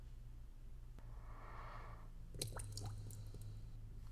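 In the video game Stick Shift, a soft wet squish is followed by a short run of liquid drips and splats, faint and close over a low steady hum, with no talk.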